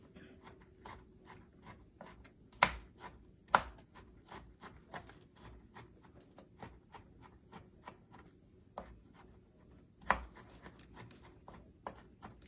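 A knife shaves chocolate chips on a cutting surface with a quick run of soft, rhythmic scraping ticks, close and quiet, with a few louder knocks mixed in.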